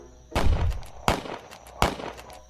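Three loud gunshots fired at a monster in a bayou, staged as an audio drama effect, each a sharp blast with a short decaying tail, spaced roughly evenly about three-quarters of a second apart.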